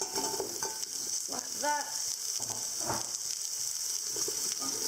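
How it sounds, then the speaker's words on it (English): Pumpkin and sweet potato sizzling in a hot pan for pumpkin soup, a steady, moderately loud hiss with brief stirring clatters, while a voice speaks briefly over it. "So we're going to add our pumpkin and sweet potato into the pan."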